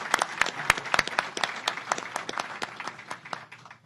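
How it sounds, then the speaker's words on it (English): Audience applause at a New York community reconstruction meeting on Staten Island, a burst of claps at moderate distance that holds steady for a few seconds and then thins out toward the end. "So let's give Jim a round of applause."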